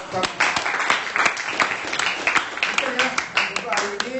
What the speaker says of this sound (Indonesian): sekali lagi berikan aplaus buat kita